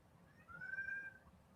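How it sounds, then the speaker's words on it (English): A single drawn-out cat meow in a home, fairly faint against low background rumble, with no talking. "What do you want, kitty cat?"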